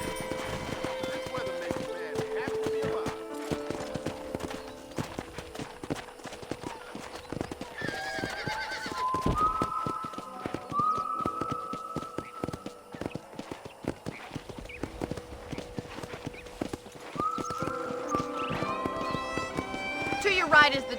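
In the video game Red Dead Redemption, hooves clip-clop steadily at a trotting rhythm, with a horse's whinny rising at times and people talking over the hoofbeats and accompanying music.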